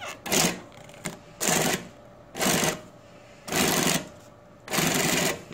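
A New-Tech GC-8B cylindrical bed industrial sewing machine runs in five loud, close bursts of rapid stitching, each about half a second to a second long, separated by short quiet pauses.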